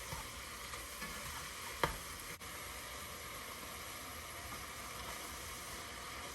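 Food browning in a cast iron pot for homemade chili beans, a steady soft sizzle and hiss throughout, fairly quiet and even, with one brief knock near the middle and no voices.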